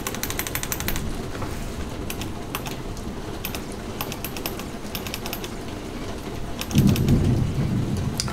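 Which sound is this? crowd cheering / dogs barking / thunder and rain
thunder and rain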